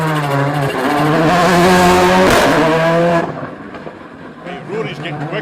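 A Ford Fiesta Rally3 rally car passes on a stage of the Argyll Rally, its engine note rising loudly and revving hard as it nears, then falling away sharply into the distance while spectators talk.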